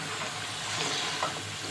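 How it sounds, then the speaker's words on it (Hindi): Chicken and potato curry sizzling as it is roasted down in a pan, a steady close hiss of frying with soft crackles and no talk. "इसकी तब तक भुनाई करनी है जब तक ये ग्रेवी पे ना आए।"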